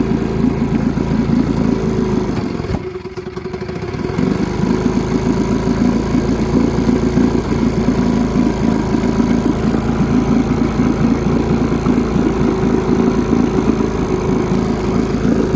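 A used outboard boat motor runs steadily at idle with its mixture being adjusted, a brief dip in the engine note early on before it settles back into a continuous, fairly loud, even drone.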